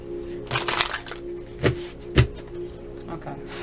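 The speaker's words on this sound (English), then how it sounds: "One more shuffle." Oracle cards being shuffled by hand during a reading, heard as a few soft, separate riffling bursts with quiet gaps between them.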